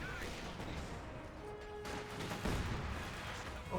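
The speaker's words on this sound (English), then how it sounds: "Oh, I heard an explosion." An explosion rumbles through a Company of Heroes 2 battle, rising as a broad, rough burst about two-thirds of the way in above a dense bed of constant gunfire and battlefield noise.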